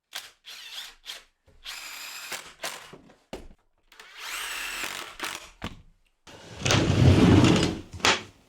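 Power driver bursts driving screws into wooden supports of a workbench, several short whirring runs separated by pauses, ending with a longer, louder sustained drive, close and alone in a workshop.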